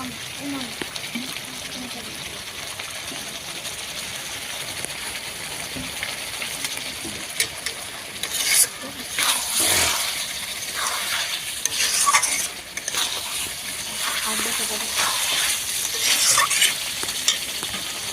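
Chicken coated in spice paste sizzles in a pan as it is stirred, with scraping bursts growing louder midway over a continuous frying hiss, and a voice talks at points.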